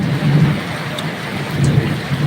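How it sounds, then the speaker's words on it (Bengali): Steady heavy rain pours down in a continuous, even hiss with no voices, growing denser during a rainy day. "আস্তে আস্তে বৃষ্টি"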